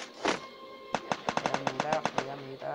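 A rapid burst of video game gunfire, about a dozen quick shots in a row, following a brief voice at the start.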